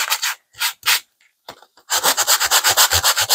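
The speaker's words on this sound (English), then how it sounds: "I want to rough it up a little bit with some sandpaper or a sanding block." A sanding block rubs against paper in short, raspy strokes, first a few isolated passes with pauses, then a quick steady run of back-and-forth scrubbing, close and distinct.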